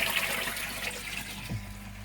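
Water running into the filter house of a koi pond, a steady close rushing and splashing flow with a brief low gurgle near the end.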